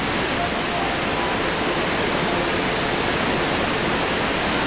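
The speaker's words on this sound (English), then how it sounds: "Waterfalls." A video game waterfall pours as a loud, constant broadband roar of rushing water, steady and close throughout.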